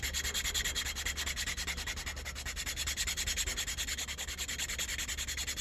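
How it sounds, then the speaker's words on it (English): Sandpaper is rubbed back and forth over the cork on a saxophone neck in rapid, even strokes, giving a close, continuous scratchy rasp with no voices. "Trying to stay pretty parallel to the floor with the sandpaper"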